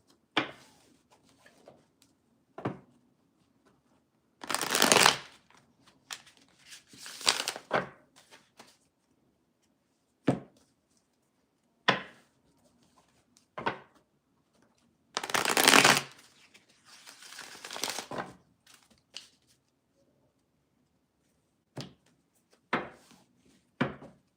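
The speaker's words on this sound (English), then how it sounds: "I'm going to go ahead and shuffle, get some clarification." Cards are shuffled in several bursts of riffling, separated by pauses and scattered light taps, close and fairly quiet.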